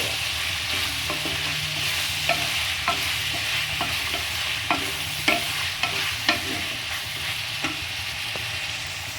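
Ginger, garlic and chili paste is stirred in a frying pan for a Telangana-style mutton and cucumber curry, with a steady sizzle under repeated close scraping strokes and no talking.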